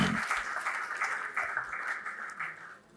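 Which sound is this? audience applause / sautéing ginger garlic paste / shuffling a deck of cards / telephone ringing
audience applause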